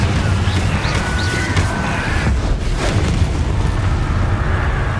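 A Confringo blast spell from Hogwarts Legacy erupts into a loud, booming explosion with a sustained rumbling roar that fills the full five seconds, dense and close with no voices over it.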